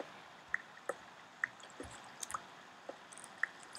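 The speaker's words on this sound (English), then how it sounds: "So I hear water, but I'm just going to keep mining down." Sparse water drips and small squishy plinks echo in a Minecraft cave, irregular and faint, spaced out across a quiet background with no talking.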